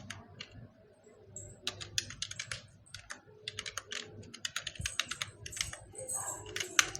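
Rapid bursts of clicking keystrokes on a computer keyboard, near and crisp, with short pauses between runs over a low background hum.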